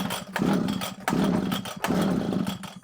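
A Komatsu Zenoah strimmer engine on choke is pull-started three times, each pull giving a rough, brief two-stroke sputter that fails to catch, in an evenly spaced rhythm close by.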